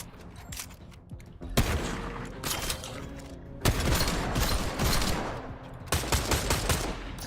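Bursts of video-game gunfire from test weapons on a Fortnite Ballistic practice range: several loud, rapid-fire volleys, each a dense rattle of shots lasting one to two seconds, separated by brief pauses.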